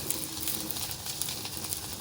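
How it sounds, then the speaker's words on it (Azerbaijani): Blini pancakes frying in a pan for breakfast give a soft, steady sizzle with faint crackles, close up and fairly quiet, with no talking. "İndi isə səhər yeməyi üçün qızardıram."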